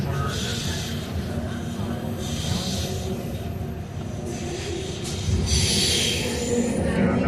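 A Vancouver SkyTrain Millennium Line train runs with a continuous rumbling roar and rising whine of motors, heard close from inside the car, swelling louder near the end.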